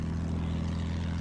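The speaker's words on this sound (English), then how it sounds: "Maybe I'll go regular attack plane for a little while." Steady, loud propeller drone of an attack plane engine in the video game Battlefield 1, a constant low hum running unbroken throughout with no talk.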